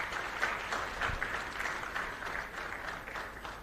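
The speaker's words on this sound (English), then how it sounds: "Please, if you can clap for him." An audience applauds an elder who stands at a launch event for an impact report, steady clapping filling the room for several seconds at moderate level with no talking over it.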